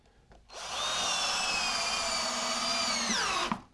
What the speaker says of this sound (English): The bottom we just toe screw into the floor.